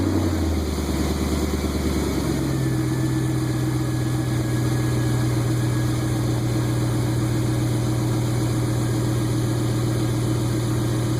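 A 2003 Jeep Grand Cherokee with the 4.7 engine cranks, catches and settles into a steady, loud idle with an even droning hum throughout.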